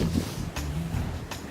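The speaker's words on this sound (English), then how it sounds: "It's windy too." Winter snowstorm wind gusting outdoors during snow shoveling, a steady rushing buffet on the microphone with two brief harder gusts, no talking.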